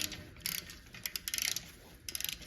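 A ratchet unbolts spring parts on a 1958 Plymouth, giving several short bursts of quick metallic clicking, close and fairly quiet with no talk.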